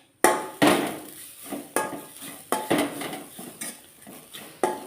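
Grated coconut dry-roasting in a pan for chammanthi podi, stirred with a spatula that scrapes and knocks against the pan in regular sharp strokes, close and clear with no talking.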